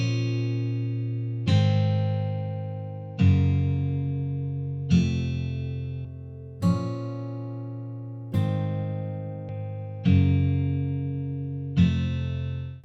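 Electric guitar melody played through the Guitar Rig 6 plugin, eight clean, evenly spaced notes or chords, each struck sharply and ringing out with a slow decay, heard alone and close.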